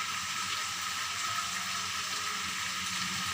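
Ginger garlic paste sizzles in a hot pan, a dense, even frying hiss that holds steady and close throughout with no speech.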